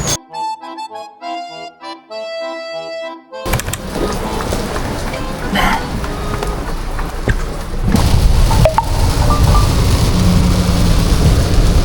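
Heavy rain drums continuously on a moving hybrid SUV, a dense roaring wash that swells louder toward the end after a short stretch of music, with no talk.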